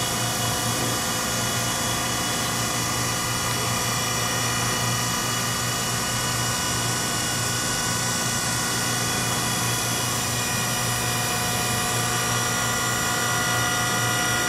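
A Unison Dedtru centerless grinder, model 4235-0000, runs steadily with a constant machine hum and a high whine, holding an even level throughout with no talk.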